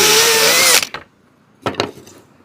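A power drill boring a nail hole into a wooden beehive frame top bar, one loud whining burst that stops abruptly, followed later by a shorter second spurt.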